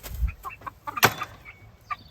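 Chickens cluck in short, scattered bursts nearby, with a sharper squawk in the middle and some low rustling.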